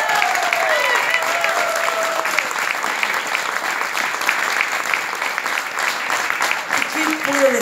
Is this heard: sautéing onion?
no